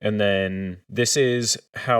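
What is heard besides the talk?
No everyday noises stand out.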